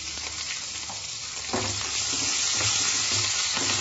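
Long-cut green chillies frying in a pan with a spoonful of urad dal and a little salt, a steady close sizzle with stirring scrapes that grows louder midway, no voices.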